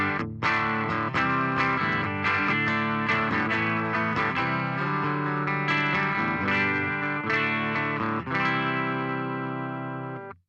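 An electric guitar through a BOSS Tube Amp Expander modeler set to a Vintage 30 Greenback speaker plays distorted chords and riffs, loud and sustained, without added effects, alone with no talking.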